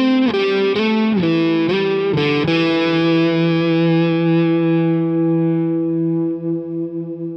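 Electric guitar riff played through a Neural DSP Archetype Tom Morello amp plugin with delay: a few distorted, sliding chord stabs ring out, then sustain and trail off in repeating echoes, loud and close with no talking.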